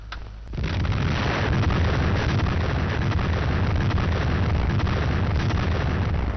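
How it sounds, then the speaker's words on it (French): Archival recording of the first French atomic bomb test explosion: after a moment of quiet, a sudden onset into a loud, sustained, rumbling roar that fills the rest of the recording without letting up. "la minute solennelle de la première explosion atomique française"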